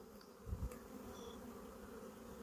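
Honeybees drone steadily around a frame lifted from a hive during the first spring inspection of the colonies, a low continuous buzz with a couple of brief thumps near the start.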